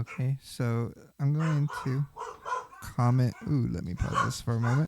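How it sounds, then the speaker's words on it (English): Dogs bark and yip in short loud bursts right beside a person who keeps talking indoors, the barks interrupting and overlapping the speech. "sorry about my dogs"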